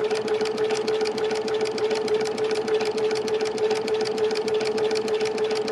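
A Brother sewing machine with a walking foot stitches thick fabric at moderate speed, its needle thumping in a fast, even rhythm with a mechanical whir underneath, close and constant.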